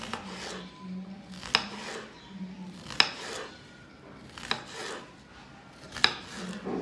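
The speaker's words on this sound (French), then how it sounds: "Le concombre et on va le découper comme on le souhaite" A knife slices a cucumber into thin rounds on a cutting board, with a few soft rasping cuts, each ending in a sharp tap of the blade on the board about every one and a half seconds, close up and without talk.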